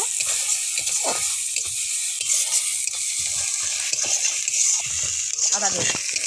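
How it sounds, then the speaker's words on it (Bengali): Onion and garlic paste fries in a pan with a bay leaf, giving a steady, close hiss of sizzling under occasional stirring scrapes, while a person talks over it. "একটু রসুন বাটা, পেঁয়াজ আর রসুনটা সুন্দর করে ভেজে নেব"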